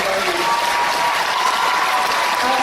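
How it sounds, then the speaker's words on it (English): Convention crowd giving a big, dense round of applause for cosplayers, loud steady clapping filling the whole moment with no break. "Let's get a quick big round of applause for these lovely ladies."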